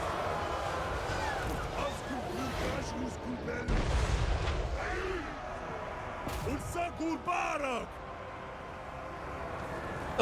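Hell cannon artillery fires in a Warhammer-style fantasy battle video game, with booming impacts and crashes over a steady layer of battle noise, while someone talks throughout.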